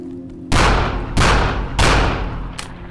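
Three loud booming gunshots from a video game fire in a steady rhythm, each with a long decaying tail, followed by a fainter fourth pop.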